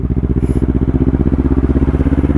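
A group of Yamaha XMAX scooters ridden together, their engines giving a loud, steady pulsing drone with an even throbbing rhythm, close up and continuous, with no voices.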